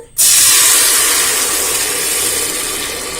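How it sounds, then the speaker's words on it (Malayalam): Kalathappam batter hits a hot pan and erupts into a loud, steady sizzling hiss that starts abruptly and holds strong, easing slightly as it continues with no voices. "ഇനി നമുക്ക് മാവ് ഇതിലേക്ക് ഒഴിച്ചു കൊടുക്കുക ഓക്കെ ഞാൻ മാവ് ഒഴിച്ചു കൊടുക്കുകയാണ്"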